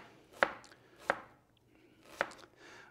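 Knife chopping an onion on a cutting board, three crisp close cuts spaced unevenly with quiet pauses between them, and no talking.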